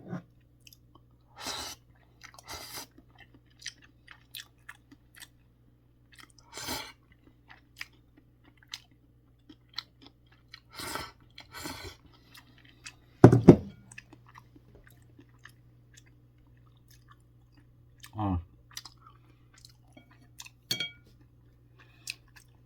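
Chapagetti black bean noodles being chewed close to the mic, with soft, intermittent wet chewing and occasional crunchy bites. A few louder clinks of a utensil against a dish come in the quiet spaces between.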